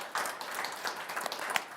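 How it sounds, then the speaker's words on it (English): A conference audience applauds the panelists, making dense, steady clapping from many hands at a moderate distance, fairly soft and brief with no voices over it. "if I could just ask the audience to give our panelists a round of applause"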